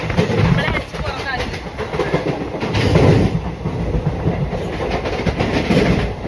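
A train rolls through a railway station on a very windy day, its wheels clattering in a loud, rhythmic rumble close by, with a voice faintly audible underneath.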